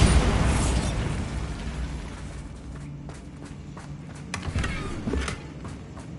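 A Bombarda blasting spell explodes in Hogwarts Legacy, with a booming burst at the start, then a dull rumbling tail and a few sharper cracks and pops later on, all heard without any talking.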